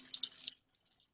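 Cold water poured into a lab flask to rinse aspirin residue off the sides and neck during purification: a short splashing rush lasting about half a second, then quiet.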